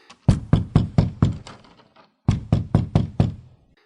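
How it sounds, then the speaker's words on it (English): Hard knocks on an apartment door: a quick run of six loud, close raps, a short pause, then five more in the same brisk rhythm, each sharp thud ringing briefly. "I quickly knocked on the door hard"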